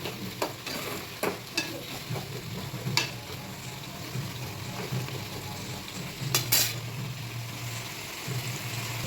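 Onion chooda, puffed rice tossed with an oil tempering, is stirred in a pan over a low, steady sizzle, with soft intermittent scrapes and clicks of the spoon and a faint background hum.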